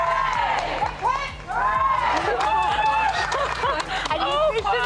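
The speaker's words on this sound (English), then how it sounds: "And you officially get the biggest cheer as well." Crowd cheering and whooping at a medal presentation at the RHS Chelsea Flower Show, a loud, sustained swell of many voices with light clapping throughout.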